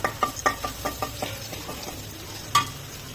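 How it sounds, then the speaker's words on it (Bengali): Cumin seeds and onions frying in a pan for a village-style soybean curry, a soft sizzle under a run of sharp stirring scrapes and clinks that fade out, then one more clank near the end. "জিরাগুলোকে পেঁয়াজের সাথে ভালো করে বেজে নিব"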